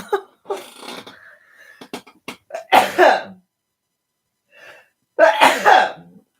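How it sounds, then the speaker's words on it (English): A sharp sneeze bursts out, followed moments later by a second sneeze, with a brief soft breath or sniff between them. "Oh, and now I'm going to sneeze."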